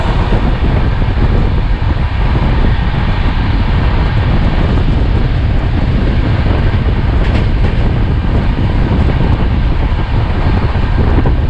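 Purba Express 12304 running from Delhi toward Howrah, a steady loud rumble of the moving train with wind buffeting the microphone throughout, no voices.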